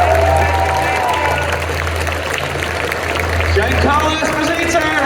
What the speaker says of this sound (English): He deserves all the applause this morning.